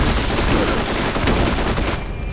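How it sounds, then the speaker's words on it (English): A submachine gun in the shooter game Borderlands fires a dense, continuous rapid burst up close and loud, then cuts off at the end. "You like my new SMG?"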